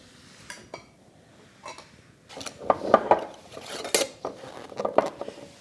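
Metal lids being set onto glass canning jars of reduced-starch potatoes, giving sparse, quiet clinks and taps at first, then a busier run of sharper metallic chinks and knocks close by.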